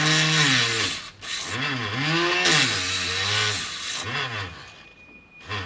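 SABA electric knife sharpener grinding scissors, a loud continuous motor whine with a gritty abrasive rasp that dips and shifts pitch as the blade is drawn through, ending in a brief lull.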